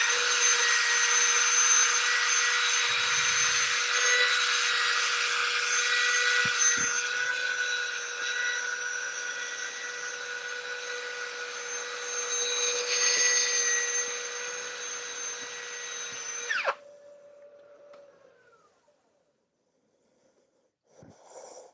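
A wood lathe spins a turning piece while sandpaper is pressed against it, producing a steady, loud whirring hum with a gritty rasp on top that continues for many seconds, then the motor cuts off and spins down into quiet.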